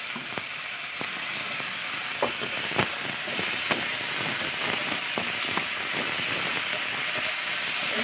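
Spice paste sizzles steadily in hot oil for snakehead fish curry, a continuous hiss with a few small pops and crackles, close and even throughout, with no talking.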